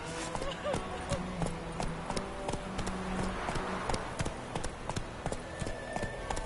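Roach, the horse in The Witcher III, gallops in a steady rhythmic clip-clop of hooves, with a voice speaking over the hoofbeats.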